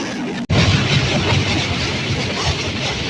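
Silk City Express, a Dhaka-to-Rajshahi train, rumbles steadily and loudly with broadband rail noise after a brief sharp dropout near the start, heard close and continuous without speech.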